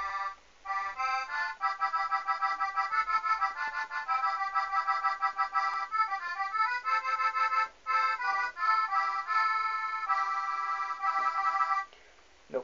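Melodeon played fast with ornaments, a bright reedy stream of quick melody notes and trills running continuously for about twelve seconds, close and steady with a brief pause near the end.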